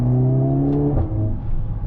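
A 2025 Mercedes-AMG A45 S facelift hot hatch drones loudly under acceleration, with a brief dip and crackle at an upshift as the exhaust pops before the engine note pulls on again.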